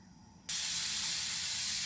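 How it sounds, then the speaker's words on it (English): Steam bursts from the port of a pressure canner loaded with fresh albacore tuna, a sudden loud, steady hiss that switches on after a quiet moment and holds without a break. "the steamer is starting to produce steam out of the port"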